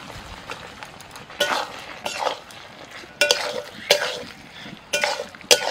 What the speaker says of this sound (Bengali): এবার ভাজা সয়াবিন দিয়ে দিচ্ছি